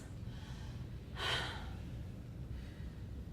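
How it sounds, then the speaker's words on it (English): An audience at a career speech taking a big deep breath together, one brief swelling rush of massed inhaling and exhaling rising out of steady room hum, then a fainter second breath. "take a couple of big deep breaths"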